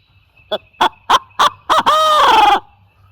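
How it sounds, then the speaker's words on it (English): Wild turkeys gobble at dawn on the opening morning of turkey season, five short separate gobbles followed by one long rattling call, close and loud with no talking. "They're gobbling everywhere already."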